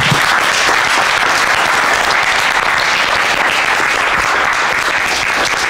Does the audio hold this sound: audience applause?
yes